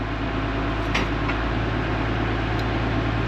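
Tractor engine idling at low revs with the PTO engaged, a steady continuous hum and drone with a faint mechanical whine, heard close and alone.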